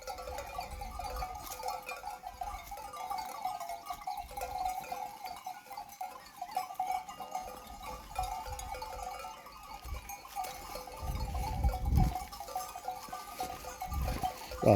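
Kangal sheep in a village flock make faint, scattered bleats amid a busy outdoor murmur, with rustling and thumps growing louder toward the end.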